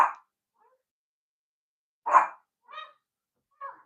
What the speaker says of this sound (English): Somebody at my door, my dog barking.